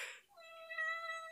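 A house cat lets out one drawn-out, rising meow, close and clear against a quiet room, with no talking.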